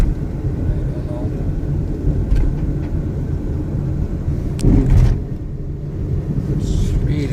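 A car's wheel grinds while driving, a low, continuous rumbling drone that stays close and steady under the road noise, with a brief harder burst midway.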